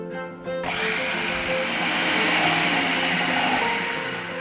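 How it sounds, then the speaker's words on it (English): A hot electric blender runs continuously on fish meat and water being blended into fishball paste, a loud steady whir that starts abruptly after a brief quiet moment and holds without pause. "we don't over blend the fish because the blender is hot"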